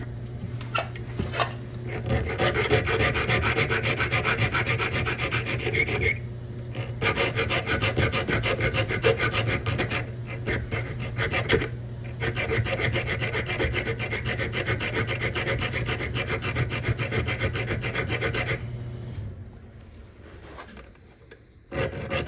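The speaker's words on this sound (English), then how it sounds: "so I'm going to do it with a file." A hand file rasping back and forth on metal pins for a DIY brake caliper tool in a garage, steady repeated strokes close up, pausing briefly twice before resuming.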